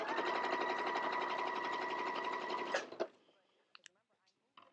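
A sewing machine stitches fabric for a quilt block in a fast, steady close hum for nearly three seconds, then stops; a few faint clicks and handling sounds follow.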